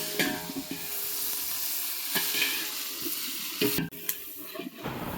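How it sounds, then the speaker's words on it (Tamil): Mutton biryani masala with coriander leaves and mint is stirred in a pot over a wood-fired stove, a steady close sizzle broken by repeated scraping stirs. "கொத்தமல்லி தழை போட்டு கிண்டணும்"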